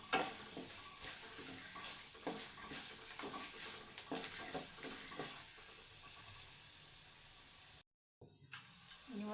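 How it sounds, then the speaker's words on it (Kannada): Cumin and mustard seeds spluttering in hot oil for a carrot palya, a quiet, close crackle of rapid little pops that eases into a soft, even sizzle, broken by a brief gap near the end. "ಇದು ಚೆನ್ನಾಗಿ ಎಣ್ಣೆ ಫ್ರೈ ಮಾಡ್ಕೊಂಡ್ಮೇಲೆ ಚಟಪಟ ಅಂತ ಸಿಡಬೇಕು ಫ್ರೆಂಡ್ಸ್."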